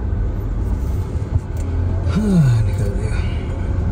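An Omoda E5 electric car drives over a rough, bad road, producing a loud, steady low rumble with bumps and jolts, and a short vocal sound like a groan rises partway through.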